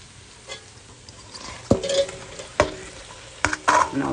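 Beef with onion and garlic sizzles in a hot pot as a utensil stirs it, with several sharp scrapes and clanks against the metal over a low, steady frying hiss, close by and without talk.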